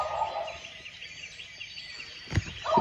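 A wild turkey gobbles from a distant mountaintop in the Kentucky Appalachians, short rattling calls carrying faintly across open woods between quiet outdoor ambience.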